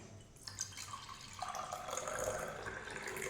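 Water poured into the lower chamber of a new instant coffee filter up to its marked line, a quiet, steady trickling splash that begins after a faint start and keeps flowing evenly, with no one talking.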